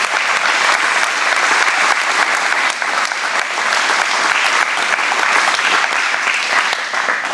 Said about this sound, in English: So I think both he and Evie, we owe them another round of applause.